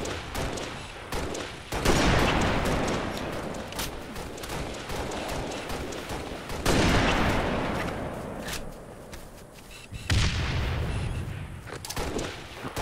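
DMR rifle fire in the video game Halo Reach, repeated sharp gunshots in bursts over a continuous rumbling battle din with booming impacts, loud and close.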